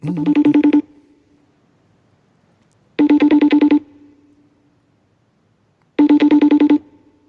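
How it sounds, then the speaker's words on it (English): A FaceTime call ringtone chimes in three identical bursts about three seconds apart, each lasting under a second, loud and clear with near silence between them. "Want me to FaceTime him and see if he'll pick up his phone?"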